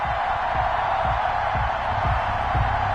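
Stadium crowd roaring and cheering in an EA Sports NFL football video game on PS4, a loud, steady wash of noise with rhythmic low thumps beneath it, continuous for the whole stretch.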